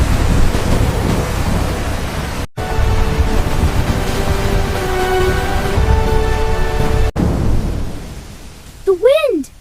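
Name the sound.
jungle wind storm with thunder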